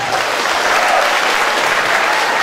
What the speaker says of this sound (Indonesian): Ya, boleh tepuk tangan buat beliau.